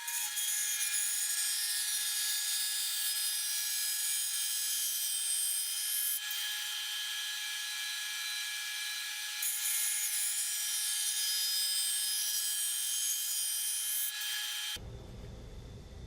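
A bandsaw slices thin strips from a quarter-inch-thick, two-inch-wide maple board, each about 80 thousandths of an inch thick, giving a steady high-pitched whine with a slight shift midway that stops abruptly near the end.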